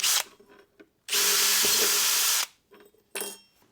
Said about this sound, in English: So we first need to drill out these holes because they're slightly less than 4mm.